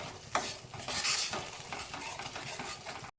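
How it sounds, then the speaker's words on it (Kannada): Paneer tikka masala gravy fries and sizzles in a pan while a spoon stirs it in repeated scraping strokes, close and moderately loud, cutting off abruptly near the end. "ಈಗ ಚೆನ್ನಾಗಿ ಮಿಕ್ಸ್ ಮಾಡ್ಕೊಳ್ಳೋಣ"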